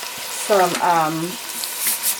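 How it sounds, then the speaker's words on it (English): Annatto seed oil sautéing in a pan, a soft steady sizzle running under a short harmonic voice-like sound in the middle, close and fairly quiet. "I warmed up the annatto seeds in the oil and then put it in the pan, and this is now sauteing."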